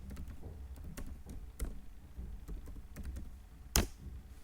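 A file name is typed on a computer keyboard: a light, irregular run of close keystrokes ending in one sharper, louder key press, with no voice.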